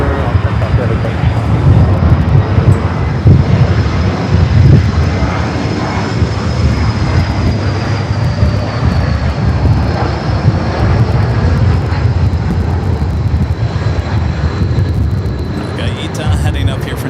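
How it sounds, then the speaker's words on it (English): An Airbus A350-900 jet bound for Rome rolls out for takeoff at LAX, its engines giving a loud, steady roar throughout. "Heading up here for north side to take off the flight heading back to Rome on the A350-900."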